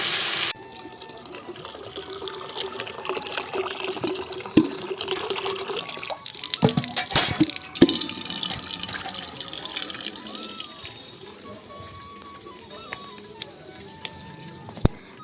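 Water runs from a kitchen tap and pours into a cooking pot on the stove, a steady gushing fill lasting most of the clip, close by, with faint voices and kitchen clatter underneath.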